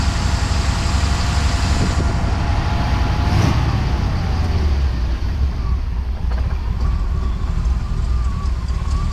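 A big-block engine swapped into a Honda Civic runs with a deep, steady drone and rises briefly as it revs, loud and close with wind-like rumble and no speech.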